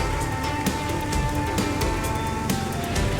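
Steady rain falls on a wet spring morning in Sylhet, a dense, even hiss of drops with a few sharper taps standing out, continuous and moderately loud throughout.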